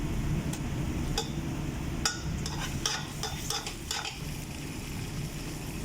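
Tomato paste sautéing in a pan with a ginger-garlic mix, a steady low sizzle under a run of scraping and clinking stirring strokes from a utensil against the pan.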